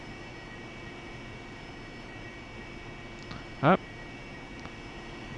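A Harrier jet engine in the DCS flight simulator holds a steady, even drone at full throttle, with a brief spoken word and a short thump partway through.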